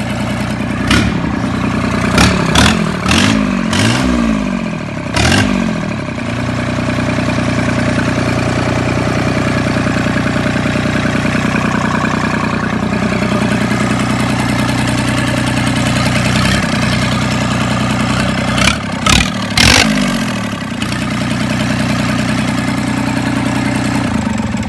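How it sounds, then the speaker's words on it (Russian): A Yanmar 3TNE82 three-cylinder diesel engine, 29 horsepower, starts cold on a January day in Khabarovsk and settles into a loud, steady rattling idle, with clusters of sharp knocks near the start and again toward the end. "Моторчик на холодную."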